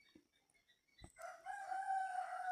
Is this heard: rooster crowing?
yes